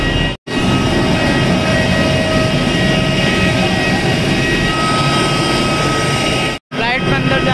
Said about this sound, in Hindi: इसका इंजन काफी आवाज कर रहा है